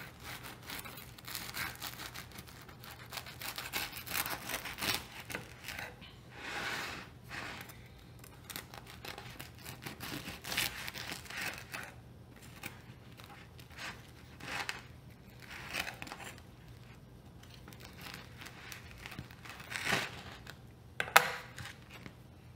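A knife saws through a loaf of homemade sourdough bread with faint, repeated crackling, crunchy strokes of the crust, steady and quiet up close.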